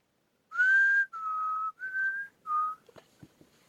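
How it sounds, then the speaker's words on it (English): A man whistles a short tune of four clear, sustained notes with brief gaps between them. A few soft knocks and shuffles follow in an otherwise quiet room. "Man whistling."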